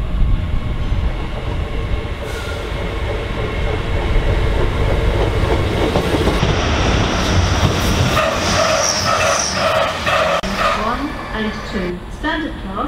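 A nine-coach train at Doncaster station rumbles and clatters steadily, loud and close, with a rising squeal of wheels and brakes toward the end while a station announcement plays over it.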